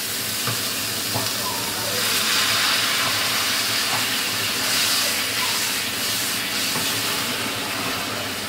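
Water poured into a frying fish curry masala sets off a loud, continuous hissing sizzle that swells and eases slightly throughout, close and steady with no talk.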